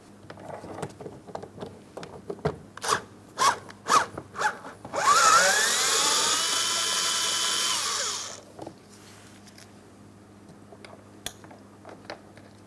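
A 10mm mounting bolt is run out of a 2004-2008 Pontiac Grand Prix door panel: a few sharp close clicks, then about three seconds of loud continuous ratcheting whir that stops abruptly, with no talking.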